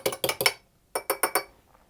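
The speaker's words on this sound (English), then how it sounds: "I'm just going to mix those up" Two egg yolks and one egg white whisked in a bowl for an apple and sultana tart pastry, heard as two bursts of quick clinking strokes against the bowl, three or four taps each, separated by a brief pause.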